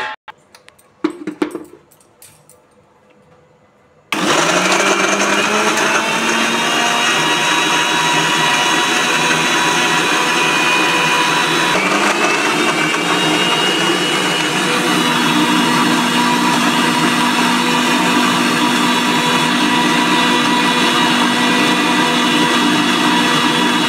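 A kitchen mixer grinder starts up after a few clinks and whirs loudly and steadily, blending tomato, ginger, garlic, coriander, salt and sugar into a coarse chutney.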